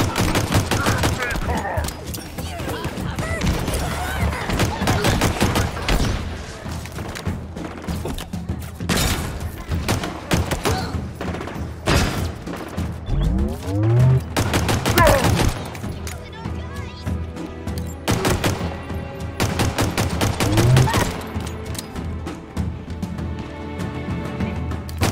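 Pistol fire in the Halo Infinite campaign, with rapid repeated shots mixed into continuous combat noise of other weapons and impacts, while a voice talks over the action throughout.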